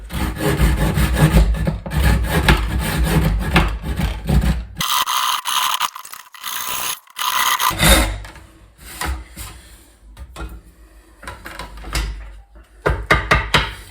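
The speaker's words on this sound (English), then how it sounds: "Right, so I've ripped down that line there." A hand saw rips along a marked line in wood, loud close strokes rasping steadily, then pausing briefly before several more scraping passes and a final burst of sawing.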